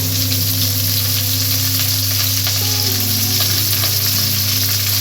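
Finely shredded cabbage goes into a hot pan with oil and bay leaf and fries with a loud, steady, close sizzle and some stirring, continuing without a break.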